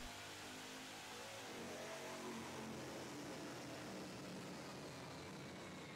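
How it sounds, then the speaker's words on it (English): A 600-cubic-inch V8 with an 8-71 supercharger runs on a dyno during warm-up, giving a steady, loud, dense roar that builds gradually, with no pauses or talk. "The powerful 600-inch, 8-to-71 supercharged V8 roars to life on the dyno, producing thunderous revs as the throttle is gradually increased during warm-up."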